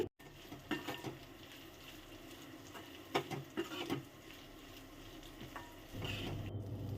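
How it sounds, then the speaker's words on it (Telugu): Dried prawns fry in a pan for a minute, a soft steady sizzle with scraping stir strokes at intervals, close and moderately quiet, with a louder hiss rising near the end. "అలా క్లీన్ చేసుకున్న ఎండ్రాయిల్ కూడా వేసుకొని ఒక నిమిషం పాటు వేయించుకోవాలి"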